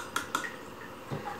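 Quinacridone Magenta watercolor paint being stirred into about a tablespoon of water, heard as a few soft, wet clicks and taps from brush against palette, quiet and close, with no talking.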